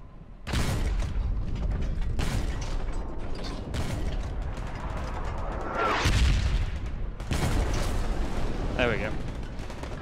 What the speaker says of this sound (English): Sounds like the tank's just on the other side of this.